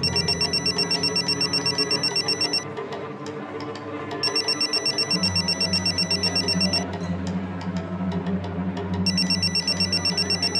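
Telephone bell ringing on a call, repeated loud electronic trills in a steady on-off pattern over a low background hum, with no voices.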